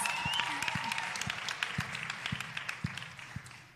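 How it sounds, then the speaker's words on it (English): Applause at a studio unveiling event, a sparse group clapping with distinct, separate hand claps and a thin crowd wash that gradually fades, with a brief voice near the start. "And I'd love for us to also give her a little round of applause."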